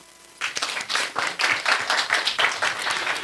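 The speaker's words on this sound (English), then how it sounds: "We can clap for that." Applause from a board of education meeting audience starts abruptly and carries on as a steady patter of many hands clapping at close to moderate distance, with no voices over it.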